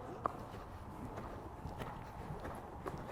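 Horse hooves thud in a steady clip-clop on an arena surface during a jumping exercise with a tight turn, moderately near over an ambient background with no talk.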